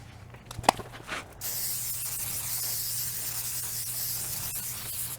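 Non-silicone mold release sprayed onto silicone molds: a steady, close aerosol hiss that starts suddenly and keeps going for several seconds, after a couple of small handling clicks at the start.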